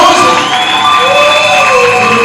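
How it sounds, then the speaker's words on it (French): A church crowd cheers as worship musicians come up to play, a loud, sustained roar with long, drawn-out shouted or whistled tones that slide in pitch, continuous and close. "Qu'ils montent ici sur les acclamations"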